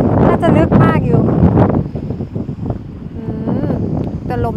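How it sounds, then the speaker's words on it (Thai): Strong wind gusting across a seashore, roaring steadily into the microphone as loud buffeting noise, with people talking throughout. "แต่ลมแรงลมดีดี"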